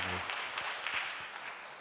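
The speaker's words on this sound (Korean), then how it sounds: "축하드릴 마음 담아서 잠시 일어나시면 박수로 하겠습니다" A church congregation in Suwon applauds during an Anglican Advent Sunday service, a soft, steady wash of clapping from the seated crowd that fills the whole moment without speech.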